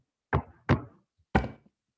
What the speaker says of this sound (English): Hey, knock, knock.